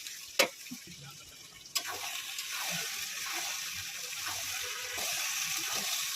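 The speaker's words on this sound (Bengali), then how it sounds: "এবার আমি আলুটা দিয়ে কষাবো।" Potatoes and mutton sizzle and fry in a pan as they are stirred for a Bengali mutton curry, a steady broadband hiss throughout with a couple of sharp scrapes or clinks near the start.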